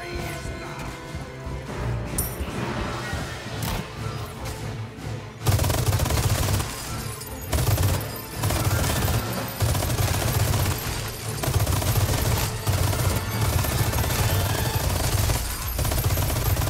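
Loud continuous gunfire from Resident Evil 4 Remake, with rapid shots, crashes and impacts packed densely together and few pauses.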